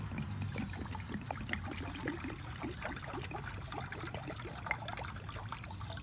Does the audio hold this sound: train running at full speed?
no